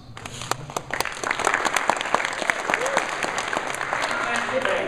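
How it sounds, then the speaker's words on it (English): Audience applause from a convention crowd at a live voice-acting stage show, steady dense clapping filling the room and swelling slightly toward the end, with no talk over it. "Please hold your applause until you feel like it's necessary."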